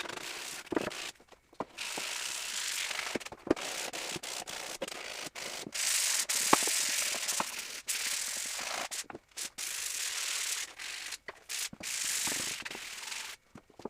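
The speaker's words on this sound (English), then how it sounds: "so I'm going to hit that down with the sander too." Power sander rubbing across a wooden corner shelf, a steady dense abrasive whir broken by frequent short pauses as the tool lifts and sets down again, close and loud with no talking.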